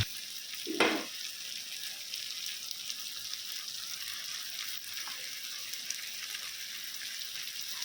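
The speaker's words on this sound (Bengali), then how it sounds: "কাঁচা লঙ্কা দিয়ে দিচ্ছি, হারি মির্চ কয়টা, কাঁচা লঙ্কা।" Green chilies going into chili chicken frying in oil: a steady soft sizzle throughout, with a brief louder spatter near the start as they hit the pan.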